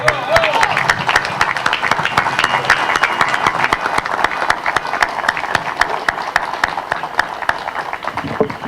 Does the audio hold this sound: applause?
yes